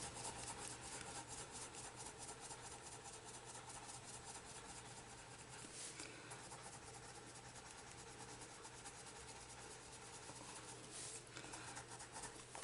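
A white coloured pencil is rubbed over paper in a colouring book to blend and burnish, making a faint, steady, close scratchy rubbing that continues for about twelve seconds without pause. No talking.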